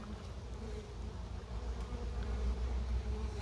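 Honeybees buzz at a hive entrance as they carry in pollen, a low continuous drone from many insects that stays faint and even, with no voices.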